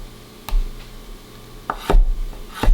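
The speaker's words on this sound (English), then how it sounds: "We're just kind of chopping." Three sharp knife chops on a cutting board as tomatoes are cut roughly for concassé, isolated strikes spaced apart over quiet kitchen background.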